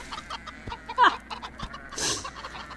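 Farm chickens cluck in short bursts, with one louder call near the middle and a rustling flurry toward the end, moderately close over quiet background.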